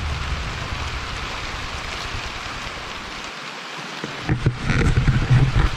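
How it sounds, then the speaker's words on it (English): Heavy rain pours down outdoors, a dense continuous hiss of drops on surfaces that swells louder toward the end, close and steady with no talking. "it's just started pouring"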